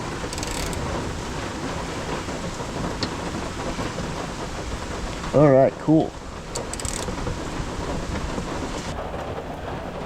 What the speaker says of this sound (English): now I'm just getting soaked halfway because it's raining.